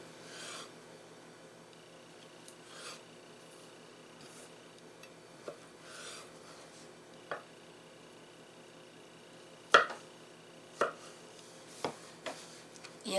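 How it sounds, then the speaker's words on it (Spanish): A knife slices food into sticks on a cutting board, with soft rasping strokes and a few sharper taps near the end, close and fairly quiet, with no talking. "Yo la quiero cortar así en bastoncitos."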